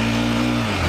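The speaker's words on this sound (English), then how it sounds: "wow, I just spun my tires so much" A Honda 400EX ATV engine revs hard on a wet trail as its tires spin. The mid-pitched drone is loud, close and steady, then eases off near the end.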